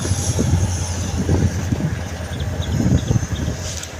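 A train passing at a distance, a steady low rumble with wind noise over it and faint high tones, holding at a fairly even level for a few seconds.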